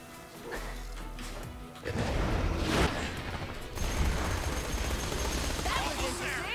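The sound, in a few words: shock SMG gunfire in Borderlands video game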